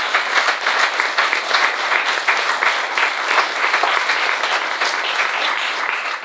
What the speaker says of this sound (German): mal einen großen Applaus hier an das Lesbennetzwerk hier in Hamburg